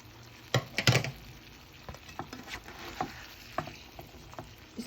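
Soft, uneven crackling and spattering from sausage and vegetables frying in a pan, with a few sharper pops and scrapes, fairly quiet and close.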